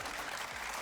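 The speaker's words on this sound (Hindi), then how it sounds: "तालियां बजाओ मेरे लिए।" An entertainment show audience claps in a brief, dense burst of applause that stays even from start to finish.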